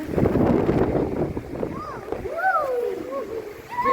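Gusty wind and splashing rain roar close to the microphone during a flood in Muscat, Oman, with voices and a vehicle passing partway through.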